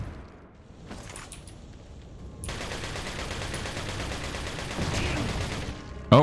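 Gunfire in Resident Evil 4 (2005), a run of quiet shots that starts with a few scattered pops and then turns into a sustained burst of firing, ending in one sharper, louder crack.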